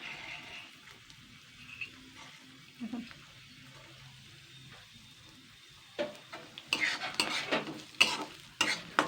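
Washed moong dal stirred and fried in mustard oil: quiet low sizzling at first, then a run of scraping, clattering spatula strokes in the pan toward the end, with no voices.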